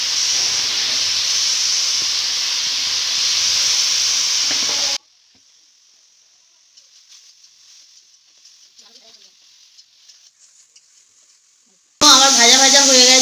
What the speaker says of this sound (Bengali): ভাজা ভাজা হয়ে গেছে মশলাটা, আমি এবার হলুদ গুঁড়ো দিয়ে দিচ্ছি হালকা।